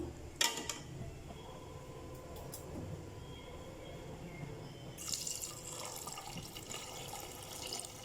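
Water poured into chicken curry in a pan, faint at first with a few drips, then a steady hissing pour over the last few seconds.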